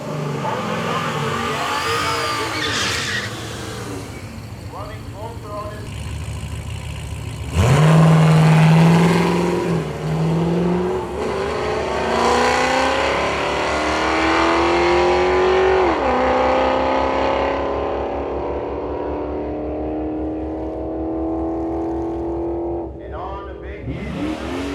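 Drag race car making a full-power run at a Detroit speed week event, its engine roaring loud and steady with a rising pitch through the pass and a hard surge partway in.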